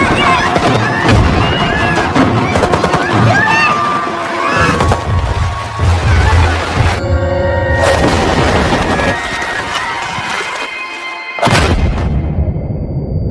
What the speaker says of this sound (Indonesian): Bom pun berjatuhan dan baku tembak pun terjadi